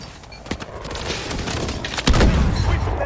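Smart grenades go off in quick succession in a close-quarters firefight in Advanced Warfare. A heavy, booming blast lands near the end over a dense battle din.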